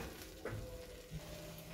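Pre-cooked chicken being added to a hot pan for Filipino pancit, a soft, distant sizzle with a couple of faint stirring knocks, quiet and without speech.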